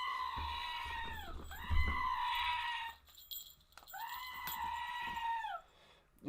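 A goat bleats three times up close: loud, drawn-out, wavering calls separated by short pauses, with no other voices present.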